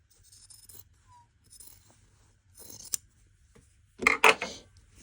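Scissors trim a fabric seam during sewing, producing a few quiet, close snips and scrapes spread across the clip, with the crispest cuts bunched near the end.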